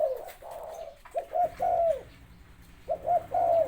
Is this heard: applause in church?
no